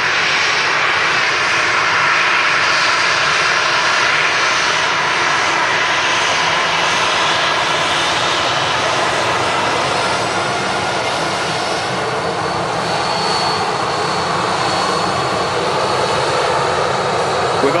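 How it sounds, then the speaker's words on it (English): A Ryanair jet airliner passes at Manchester Airport, its engines a loud, sustained broadband roar that holds steady for the whole span without fading away. "We'll let this Ryanair go past"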